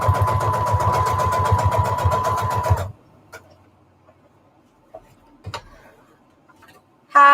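A sewing machine stitches lace onto an index card in a fast, steady, loud run of needle strokes lasting about three seconds, then stops, leaving a few faint clicks and handling noises before a short burst of stitching returns.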